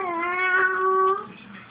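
A single drawn-out cat meow, close and clear with a slightly falling pitch, followed by a brief quiet tail.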